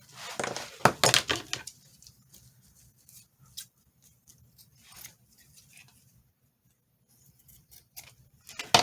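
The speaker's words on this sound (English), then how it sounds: "Let me cut some of that thread off." A few quick snipping sounds of scissors cutting thread near the start, then quiet with faint scattered handling noises.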